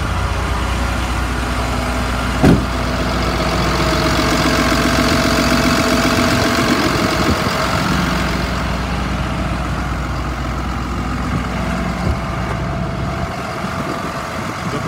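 Idling engine of a 2010 Freightliner Business Class M2 ambulance with 63,000 miles, a steady smooth low rumble, close and loud, with a single sharp click early on.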